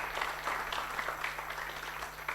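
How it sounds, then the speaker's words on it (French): Audience at an AI governance panel applauding steadily, a dense wash of many hands clapping at moderate distance with no talk over it. "Vous pouvez maintenant applaudir, s'il vous plaît."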